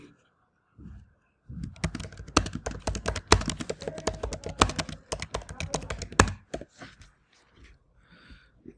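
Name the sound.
typing a website tagline on a computer keyboard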